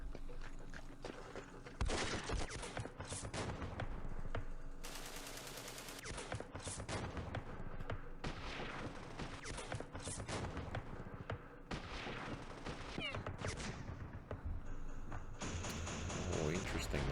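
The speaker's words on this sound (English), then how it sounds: "Interesting that they're firing at that." Gunfire and explosions in the Campaign Series Middle East war game during the Battle of Jerusalem, with irregular bursts, booms and rattling shots repeating throughout at moderate loudness.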